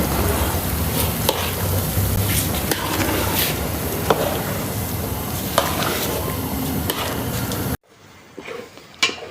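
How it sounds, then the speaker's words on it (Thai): A sticky rice mixture for khao tom mat, a Thai banana-leaf-wrapped rice sweet, is stir-fried in a pan until dry. Steady, close scraping and sizzling run throughout, then cut off abruptly near the end. "ผัดประมาณยี่สิบนาทีให้แห้งให้แห้ง"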